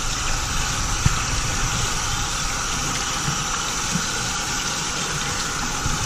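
Steady rushing water from a hose or tap pours over a reusable air filter being rinsed clean of cleaner, a continuous close gush with no speech.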